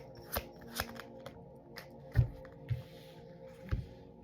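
Tarot cards being shuffled by hand, close up, with a series of separate crisp riffles and snaps spaced about half a second apart and quiet between them.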